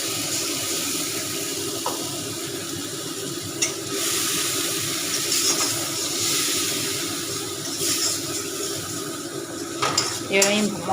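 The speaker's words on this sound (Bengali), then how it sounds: "এবার আমি মশলাটা ভালো করে কষাবো।" Spice masala stirred and fried in a pan with a little oil, a steady scraping and clattering of a utensil against the pan over a constant sizzle, with a few sharper metallic knocks near the end.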